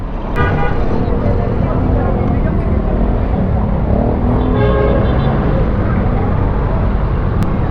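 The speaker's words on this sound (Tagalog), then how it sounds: "Traffic to." Dense rush-hour road traffic on a wet, rainy road rumbles continuously and loudly, with a horn toot near the start and another near the end.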